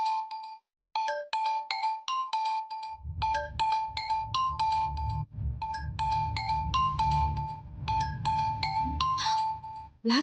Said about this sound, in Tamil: பிளாக்மெயிலர் கால் பண்றான்.